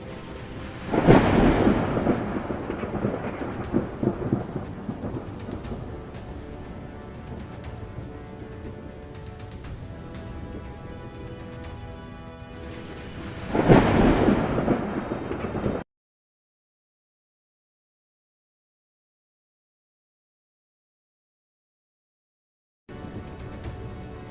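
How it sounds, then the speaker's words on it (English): Thunder from lightning striking a city at night: two loud, rolling rumbles with heavy rain hissing beneath, the second crash followed by a stretch of dead silence before rain returns. "Lightning strikes the city at night, and the entire area glows bright for a few seconds."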